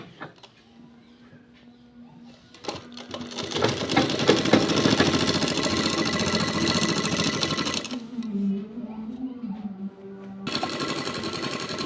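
A sewing machine stitches a trouser seam with a fast, loud whirring hum in two long runs separated by a pause, and a person talks during the pause.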